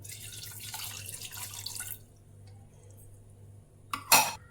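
Water splashes as it is poured from a cup onto jaggery in a kitchen, a broad rush for about two seconds, then quiet before a brief sharp clatter near the end.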